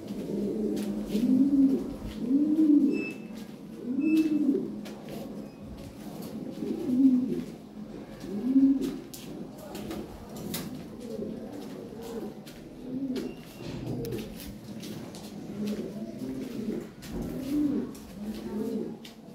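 European Lahori pigeons coo repeatedly in a breeding loft, low throaty rolling calls coming in regular bursts every couple of seconds, close by.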